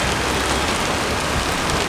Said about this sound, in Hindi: बारिश बारिश बारिश।